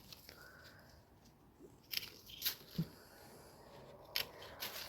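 Pruning shears cut through hydrangea stems of a reblooming bigleaf hydrangea, giving a few sharp, separate snips spaced over several seconds, close and moderately loud against a quiet outdoor background.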